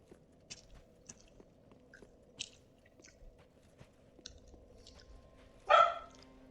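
A dog indoors makes one sharp, loud bark near the end, after scattered faint clicks and small noises in a quiet room.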